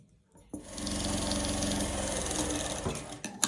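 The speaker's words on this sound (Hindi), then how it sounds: "अब इसे किनारे की हम लोग बिल्कुल सिलाई लगाएंगे ताकि अच्छी तरीके से ये यहाँ पर फिक्स हो जाए" A sewing machine stitching along the edge of a blouse piece, a steady close mechanical whir running for about three seconds after a brief start, then stopping.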